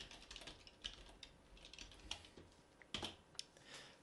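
Keystrokes on a computer keyboard, quiet and close, tapping out a short phrase in irregular bursts with brief pauses between.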